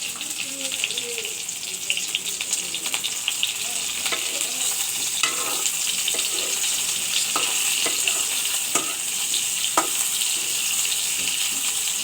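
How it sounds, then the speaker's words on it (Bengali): Boiled bitter gourd pieces frying in a pan, a continuous hissing sizzle with scattered crackles and pops and occasional stirring scrapes, heard up close with no one talking. "এখন আমি এর মধ্যে করলাগুলো ভেজে নেব।"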